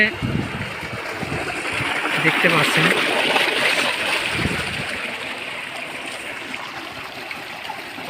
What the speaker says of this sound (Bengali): পানির এত স্পিড তো দেখতে পাচ্ছেন এখানে পানির কি গতি